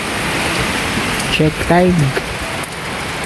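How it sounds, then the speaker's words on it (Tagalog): Steady rain falls on a farm in the early morning, a continuous close hiss that runs throughout, with a voice speaking briefly in the middle. "Last ng ulan guys."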